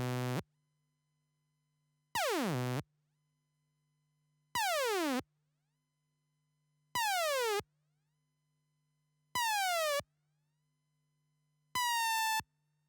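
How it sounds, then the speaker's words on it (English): A modular synth sequencer slide in linear mode, set to increasing slide times: six separate buzzy synth notes, each falling steeply in pitch, with the glides growing longer and smoother from note to note over a faint steady hum. "Here I'm demonstrating what happens in linear mode as you increase the time."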